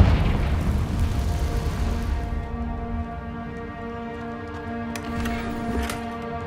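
A Confringo explosive spell blast in Hogwarts Legacy: one loud, booming burst that rolls and fades over about two seconds, leaving a steady low hum and faint game ambience.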